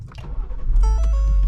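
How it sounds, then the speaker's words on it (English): A 2022 Ford Police Interceptor Utility with the EcoBoost engine starts up, the starter whirring briefly before the engine catches and settles into a loud, steady idle, with chimes sounding in the cabin. "So let's fire her up."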